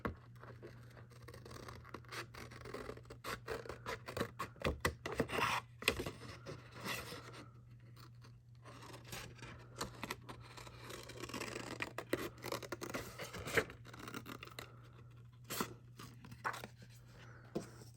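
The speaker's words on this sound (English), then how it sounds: "Then I'm just going to cut around that." Scissors cutting around fabric-covered paper for a mini album, a long run of soft close scratchy snips and rasping strokes over a low steady hum, with no talk.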